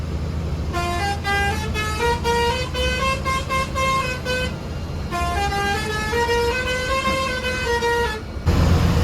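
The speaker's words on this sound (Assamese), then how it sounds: "বাছৰ হৰ্ণ কেইটামান আছে," A brand new ultra-luxury semi-sleeper bus on the Guwahati to Dibrugarh route sounds its multi-tone musical horn: two long, loud melodic sequences of rising and falling tones over a low engine rumble.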